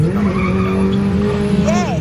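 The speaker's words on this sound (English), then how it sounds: "Squeaky brakes." Racing trucks at Brands Hatch give off high squeaky brake squeals that sweep up and down in pitch over a steady loud engine roar, the squealing clearest near the end of the clip.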